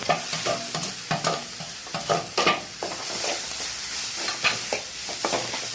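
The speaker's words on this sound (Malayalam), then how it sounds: "ഇനി നമ്മൾ ചതച്ച് വെച്ച തേങ്ങയുടെ കൂട്ടിട്ടിട്ട് നല്ലപോലെ" Crushed coconut mixture with mustard seeds and curry leaves fries in a pan, a close, steady sizzle broken by irregular scrapes and knocks of a spoon stirring it, with no talking.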